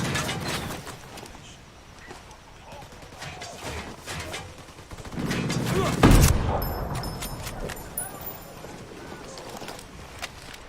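Gunfire in the tactical shooter Ghost Recon Wildlands: scattered shots amid game ambience, with a loud burst near the middle and sporadic cracks afterward, some speech-like sound mixed in.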